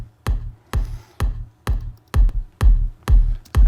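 A kick drum with no layered processing plays eight evenly spaced, punchy hits, each with a short low thump and a thin click on top, with nothing else around it.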